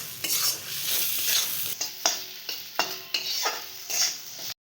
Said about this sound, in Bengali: আদা বাটা আর কাঁচা লঙ্কা দিয়ে ভালো করে নাড়াবো।